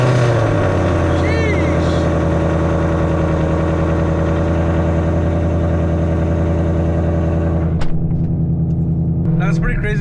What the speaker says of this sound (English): let's go ahead and get a nice cold start